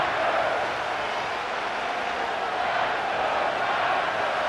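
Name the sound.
stadium crowd cheering, from video game Madden NFL 25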